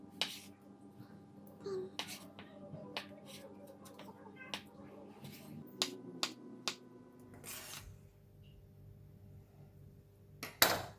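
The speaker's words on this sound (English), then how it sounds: "I like to start off with cutting the tofu. So we're going to cut pretty small." A knife chops tofu into small pieces on a cutting board, with sharp, separate taps in an uneven rhythm, close and moderately loud, and faint background voices between the cuts.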